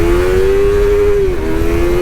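Upgraded race engine of a Yamaha R3 motorcycle revving hard toward 13,000 RPM, a loud steady high-pitched whine that dips briefly as it shifts, then climbs on, close and unbroken by voices.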